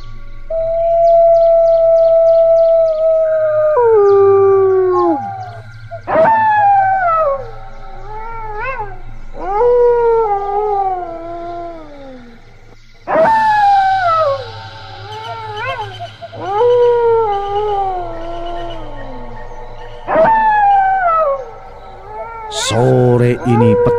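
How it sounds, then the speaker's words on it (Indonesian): On a mountain in the late afternoon, dogs or wild dogs let out a long chorus of loud, drawn-out howls. Wavering wails slide downward and overlap, rising again and again for over twenty seconds. "lolongan asu atau anjing hutan mulai membahana memenuhi alam"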